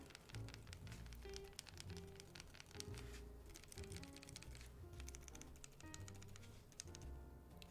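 Steady, dense typing on a mechanical keyboard with Telios switches in a plate-mount build without a case, continuous fast clacking throughout at a soft, even level.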